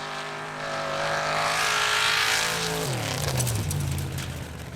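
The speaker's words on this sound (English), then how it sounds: "Next up we have Bjartur Eliasson driving Olsen Olsen" A Formula Offroad race car at an Icelandic competition in Hella climbs a track, its engine droning and revving hard before shifting down, heard from a moderate distance without talk.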